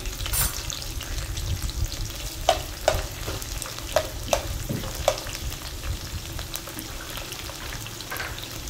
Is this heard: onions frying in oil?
yes